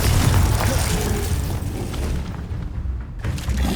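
In the video game Hogwarts Legacy, the Confringo spell sets off a dense, booming explosion that dominates the short clip before fading into a rumbling tail, with no one talking.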